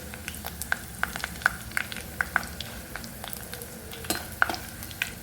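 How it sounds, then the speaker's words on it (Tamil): Dried vegetable vathal fries in sesame oil for vatha kuzhambu: a soft background sizzle with repeated sharp metallic clinks and taps of a spoon against the pan at an irregular rhythm. "இப்போ இது நல்லா பொரியட்டும்"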